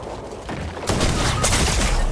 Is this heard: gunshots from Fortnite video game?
yes